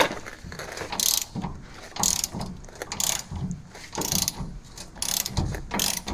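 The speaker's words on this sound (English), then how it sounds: "first thing I'm gonna do is a 21 millimeter socket" Repeated bursts of ratchet clicking from a 21 mm socket loosening a leaf spring shackle bolt on a GMT 900 truck, close and loud, in steady back-and-forth strokes with no talking.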